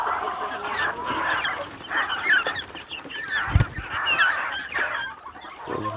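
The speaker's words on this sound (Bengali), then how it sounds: "দেশি মুরগিগুলো।" A flock of native desi chickens on a mixed poultry farm keeps up a steady, rising and falling stream of clucks and calls, close and fairly loud, with one brief dull thump midway and no talking.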